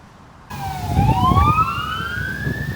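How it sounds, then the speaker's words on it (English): An emergency vehicle siren starts up abruptly and wails loudly nearby with rising and falling sweeps, and traffic rumbles underneath. "There's always some kind of siren going on."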